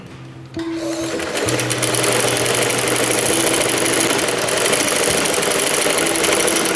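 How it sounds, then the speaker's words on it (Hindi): A sewing machine stitches a capri trouser, running at a steady whirring hum close by with a fast regular mechanical rhythm after a brief start-up, with no talk. "अब इसकी बाकी की सिलाई लगाएंगे।"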